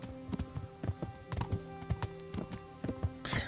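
Horse hooves clip-clop in a steady, even rhythm while riding through open countryside in the video game Kingdom Come: Deliverance, the footfalls close and clear with no talking over them.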